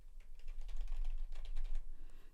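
Typing on a computer keyboard recorded through a Shure SM7B microphone: a close, steady patter of key clicks in quick irregular bursts, with no talking.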